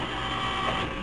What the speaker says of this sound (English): so I'll put in some flaps, get a little drag going